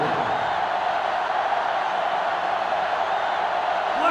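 Steady roar of a stadium crowd cheering in the NCAA Football 2005 video game during a Michigan rivalry matchup, a dense continuous wash of noise at constant loudness with no distinct voices standing out.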